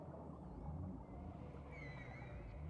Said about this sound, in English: The complicated low-frequency singing of some whales can be detected at a distance of more than 500 miles.